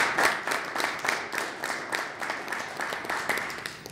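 Audience applause at a talk on healthy relationships at a college, a steady patter of many hands clapping at moderate distance throughout, with no clear voices.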